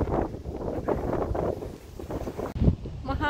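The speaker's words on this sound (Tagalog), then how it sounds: "mahangin. Grabe yung hangin." Strong gusts buffet the microphone in loud, uneven rumbling bursts while walking along a sidewalk beside a park, with a brief voice mixed in near the end.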